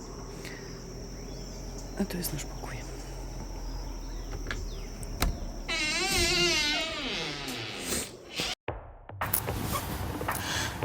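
A steady shrill drone of cicadas in Guatemalan tropical jungle fills the background, with a wavering buzzing swell midway and a voice speaking briefly over it.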